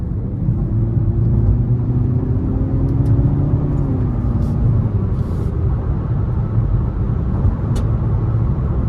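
2023 Nissan Altima SR VC Turbo accelerating from inside the cabin, a loud steady engine drone with rising pitch and a smooth shift dip, under road rumble.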